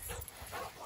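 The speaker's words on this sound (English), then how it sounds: "there's a dog here, and our dog is in the back and he's freaking out" A dog at a tree farm barks and whimpers in short, agitated bursts, fairly faint and mixed with outdoor background noise.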